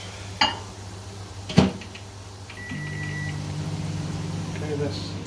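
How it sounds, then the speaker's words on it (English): A microwave oven hums steadily at close range in a home kitchen while a milk sauce for moussaka heats, with a couple of sharp clicks from the door or buttons before the drone starts. "Microwave."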